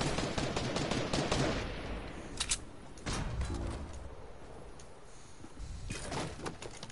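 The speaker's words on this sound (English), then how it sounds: "I'm just shooting this thing down" Gunfire in a video game, short bursts of shots near the start and around the middle over a steady noisy game backdrop, with a lull between them.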